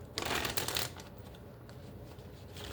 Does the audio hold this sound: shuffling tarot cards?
yes